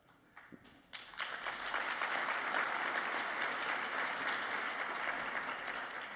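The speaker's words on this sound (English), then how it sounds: "Everybody's clapping" Audience at a Maryland governor's business summit bursting into applause after a quiet start, the clapping swelling within a second into a sustained, dense roar from a large room that holds steady to the end.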